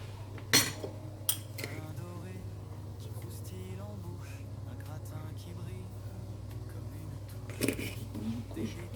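A pan of endive and leek fondue is stirred, giving occasional light clinks and scrapes of a utensil against the pan over a steady low kitchen hum.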